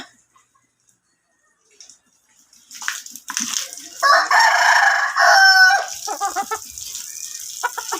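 A chicken crows and clucks nearby in a backyard setting, a loud crow after a quiet start followed by shorter clucks, with soft voices faintly present.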